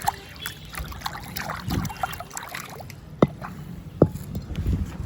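Water sloshes and splashes close by in uneven bursts as pigeons' drinking water is changed on a rooftop, with drips and a couple of sharp knocks as a container is handled.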